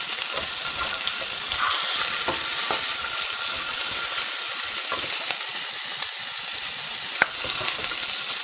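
A rack of lamb seared bone side down in a hot pan gives a steady, dense sizzle and spitting of fat, close and fairly loud, with a sharp pop near the end.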